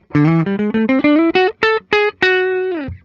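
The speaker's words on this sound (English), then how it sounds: "we got some pretty basic Les Paul tones here" A 1993 Gibson Les Paul Custom electric guitar plays clean: a quick run of separate single notes climbing upward, then a final note that rings out before cutting off.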